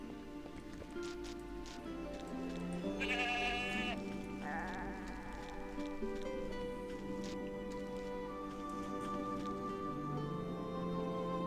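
A goat bleats in the video game Ultima IX: Ascension, a few wavering bleats standing out over a steady bed of game music and ambient sound, with no talk over them.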